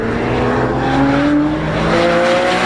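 A 2012 Porsche 911 driven hard, its loud engine note rising steadily in pitch as it accelerates, with a brief tire squeal, close and continuous throughout.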